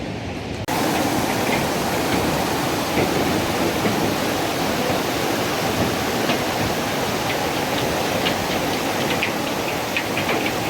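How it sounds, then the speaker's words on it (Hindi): Meltwater gushes out from inside a glacier near Baltal, a dense, steady roaring rush that holds at an even loudness throughout, with no voices. "तो ये है एक ग्लेशियर जिसके अंदर से पानी बह रही है"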